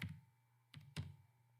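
A few keystrokes on a computer keyboard while typing an item name into a Word table: a quick tap, a short pause, then two close clicks, near and quiet against a faint hum.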